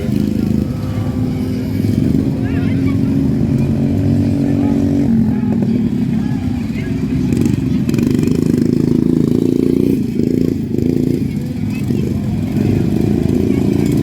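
A Honda GX small engine on a machine fitted with a tractor wheel runs steadily nearby, a constant mid-pitched drone with slight speed changes, while voices talk over it.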